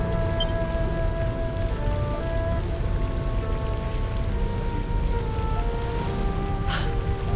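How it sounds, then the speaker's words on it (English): Steady rain falling in the video game Dragon Quest XI, a constant dense hiss layered under sustained musical tones, with a brief brighter splash or chime near the end. "Rain falls."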